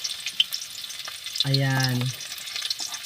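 Onions and garlic frying in hot oil, a quiet, crackly sizzle with scattered pops that continues under a short spoken word from someone nearby.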